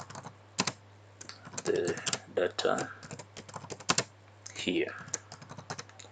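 Computer keyboard being typed on to enter form data, a quick irregular patter of close key clicks with a brief spoken word partway through.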